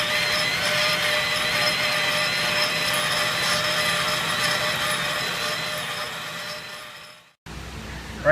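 A cutter bores into a broken stud below a casing surface, a loud steady whining grind with a sustained tone that runs without a break, then cuts off abruptly near the end before a brief faint resumption.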